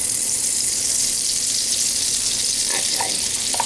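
Spoonfuls of hushpuppy batter fry in hot oil, a continuous bright sizzle with crackling, and a few louder pops as the batter drops in toward the end.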